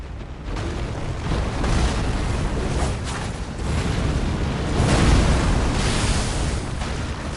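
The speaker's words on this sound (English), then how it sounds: "It's got an explosion, that's good to know." A big explosion in Elden Ring bursts in as a dense, rumbling roar that swells and lingers for several seconds, loud and broadband with a second surge midway.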